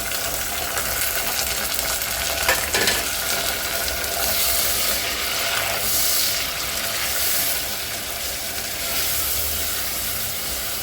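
Minced meat (keema), a coarse and slightly fatty 250 g batch, sizzles and hisses steadily in a pan over browned onions, a continuous close broadband frying noise with a few scraping stirs.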